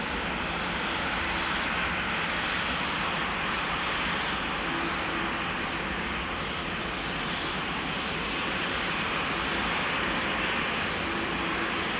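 A KLM jet departing Amsterdam Schiphol gives off a steady, broad engine roar and hiss, fairly distant and unchanging throughout, with no voices.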